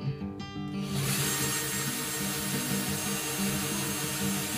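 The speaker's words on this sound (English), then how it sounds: "Let the drill do the work." A power drill whirs steadily and continuously at close range, boring through the wood of a Gretsch Jim Dandy acoustic guitar, a sustained mechanical grind with no voices.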